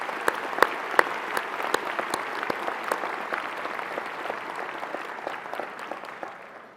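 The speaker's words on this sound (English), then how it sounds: "let's give them a very, very loud applause for their achievement" An audience at an awards dinner applauds with dense, sharp clapping that holds steady and then thins slightly toward the end, with no voices over it.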